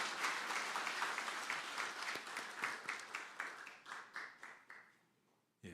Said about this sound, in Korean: 우리 박수로 환영하시도록 하겠습니다.